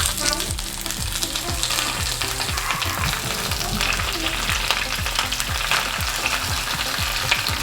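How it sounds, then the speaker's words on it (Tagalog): Vegetables sizzle and crackle in hot oil, a dense continuous frying hiss with occasional stirring clatter, close up and without voices. "Ngayon, piprituhin natin tong mga gulay."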